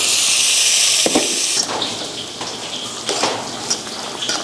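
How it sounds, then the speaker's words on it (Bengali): A vegetable curry for a paneer dish sizzles steadily and loudly in the pan as fried ridge gourd goes in, with soft stirring knocks breaking through the constant frying hiss. "এখন আমি এই যে ভেজে রাখা ঝিঙেগুলো এর মধ্যে দিয়ে দিচ্ছি"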